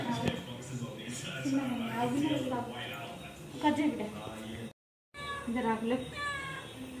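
A cat meows several times with drawn-out, wavering calls at close range, mixed with people talking nearby.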